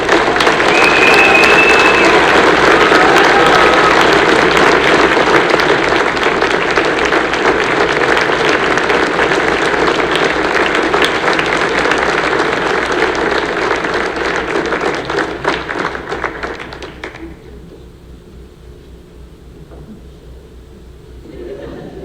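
Loud, sustained applause from a high school band concert audience after a band award, dense clapping with some cheering that runs for about seventeen seconds before cutting off to quiet room tone.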